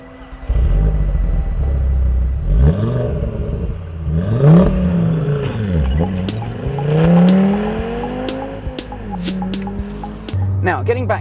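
An Audi 340-horsepower 2.5-litre turbocharged five-cylinder engine in a TT RS revs up and down repeatedly, rising and falling in pitch, loud and close, with sharp pops near the end.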